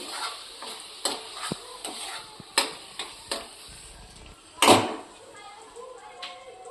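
A cooked vegetable mixture for olo, a roasted eggplant dish, gets stirred in a pan with a gentle sizzle under repeated spoon scrapes and taps, one louder clank near the end, close by.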